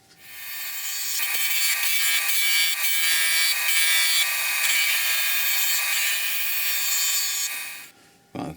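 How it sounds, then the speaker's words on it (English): A drill press bores steadily into wood, a loud continuous whirring grind lasting several seconds before cutting off abruptly, followed by a brief clunk. "I shall have to run over to the drill press and deepen that."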